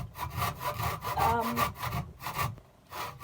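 A handsaw cuts through a plastic wheelie bin for a go-kart build, giving steady back-and-forth rasping strokes, close and fairly loud, with a brief pause near the end.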